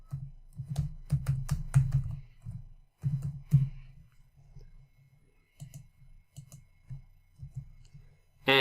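A computer mouse clicks and a keyboard types in an accounting program, with bursts of quick, close taps and single clicks separated by short pauses.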